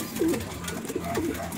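Young pigeons in a loft give two soft, low coos about a second apart, close and gentle over a faint room background.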